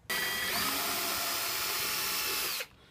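A power drill runs steadily for about two and a half seconds while pre-drilling holes to install a Waves & Wheels S1/S2 speaker, then stops abruptly; loud, close and continuous, with no talk.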